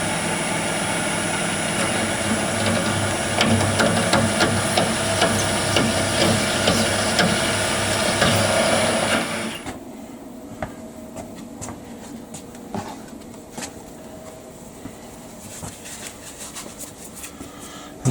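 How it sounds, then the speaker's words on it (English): Lathe drilling into the end of an aluminium blank with a centre finder: a dense, loud machining noise for about nine seconds that stops abruptly, leaving a quieter motor hum with occasional light clicks and knocks. "The first thing I'm going to do is to drill using a centre finder just into the end before I drill the main core"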